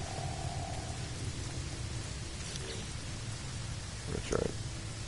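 Rainfall and thunder in the game No Man's Sky: a soft continuous patter of rain with a low rumble, then a brief sharper thunder crack near the end, faint under the game's steady tones.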